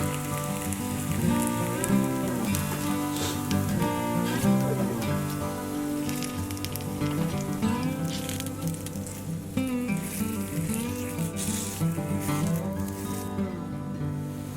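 Sweet kuzhi paniyaram frying in a little oil over a low flame, a steady soft sizzle and bubbling that continues evenly throughout with no talking.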